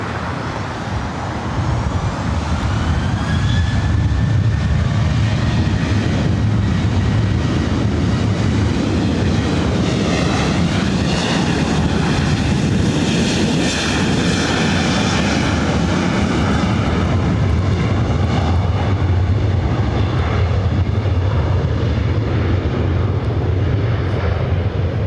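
Delta Airlines A321 arriving at LAX with jet engines roaring; a loud, steady, continuous engine rumble with a rising whine, close by, dominating throughout with no talk.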